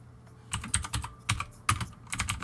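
Someone types on a computer keyboard close up, in uneven bursts of crisp clacking keystrokes with short pauses between.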